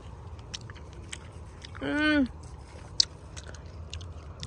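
Someone biting into and chewing a freshly picked garden vegetable, with close, soft crunchy bites scattered through, overlapped briefly by a voice speaking.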